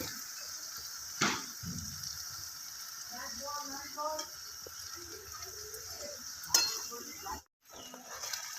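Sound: frying Ganges bele fish with chili paste

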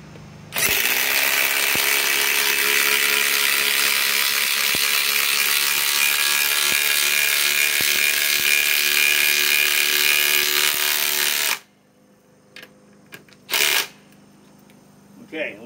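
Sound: cordless impact wrench driving 6 inch lag screws

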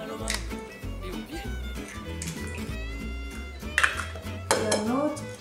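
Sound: adding eggs to a mixing bowl

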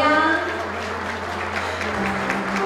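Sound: applause at a wedding banquet

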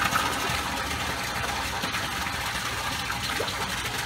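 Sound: pump pumping salt water into tank from mixing station

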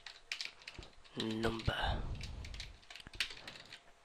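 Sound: typing code on a computer keyboard

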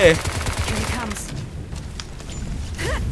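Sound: gunfire in the video game Bright Memory

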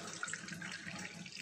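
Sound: hot water poured from a kettle

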